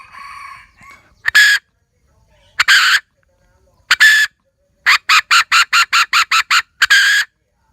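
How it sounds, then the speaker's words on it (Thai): A brass hen call whistle gives sharp clucking bursts: three single clucks spaced apart, then a rapid run of about eight, then one more pair, loud and near, after brief quiet talk at the start. "อ่านี่เป็นเสียงกระตักนะครับ"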